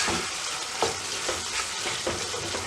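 Pork pieces frying in their own rendered fat with no added oil, a dense loud sizzle broken by rhythmic stirring scrapes roughly every half second, with no voices.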